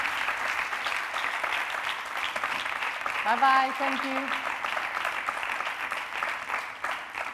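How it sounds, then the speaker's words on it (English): Audience applause at a social innovation pitching competition in Lisbon, steady dense clapping filling the whole stretch, with brief spoken farewells and thanks over it. "A big applause to Olga and Judita."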